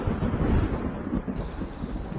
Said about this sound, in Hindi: बारिश भी बहुत ज़्यादा हो रही है।